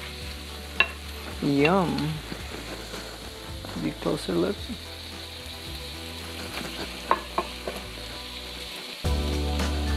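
Garlic bok choy sautés in a hot pan with a steady, close sizzle and crackle that runs throughout, while a voice speaks briefly over it.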